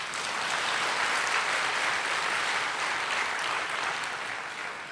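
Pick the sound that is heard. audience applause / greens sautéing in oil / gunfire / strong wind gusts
audience applause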